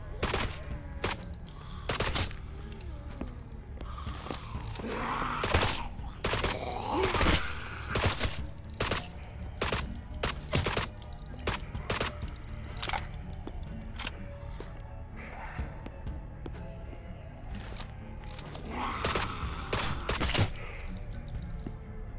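Rapid gunshots ring out in a first-person shooter video game, with repeated sharp cracks and short bursts at a moderate level throughout, over a steady background of game ambience.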